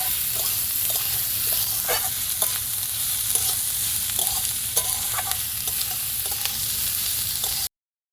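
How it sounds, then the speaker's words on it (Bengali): Chopped onions and flattened rice fry in a pan for a rice-flake pulao, with a steady close sizzle and repeated scraping clicks from the spatula as it stirs. "দিয়ে দেবো পেঁয়াজ কুচি, সবগুলো মিক্স করে খুব ভালো করে ভেজে নেব"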